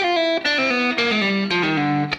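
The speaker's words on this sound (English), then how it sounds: "The most startling of those licks is just an atonal pattern he moves across the strings with pull-offs." An atonal guitar lick moves across the strings with pull-offs, a quick descending cascade of overdriven notes in repeated groups. It is loud and up close, with no voices.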